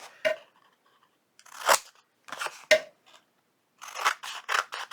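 Close scissors snip through a paper napkin template for a junk journal, a few separate sharp cuts with pauses, then a quicker run of crisp snips.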